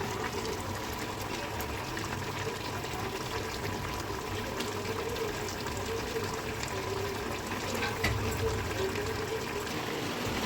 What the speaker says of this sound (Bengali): এখানে এঁচোড় চিংড়ি ফুটছে, হয়েই এসছে, আর 2 মিনিট ফুটে গেলে হয়ে যাবে